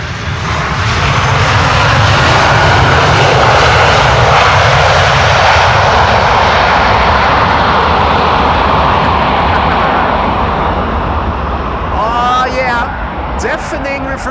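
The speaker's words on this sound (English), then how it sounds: "Deafening reversers, the wind blowing all the sound in our direction, and that makes it additionally loud" An airliner landing at Amsterdam Schiphol in a crosswind roars with loud engine thrust reversers, a deafening, sustained rumble close by that slowly fades, with voices faintly audible toward the end.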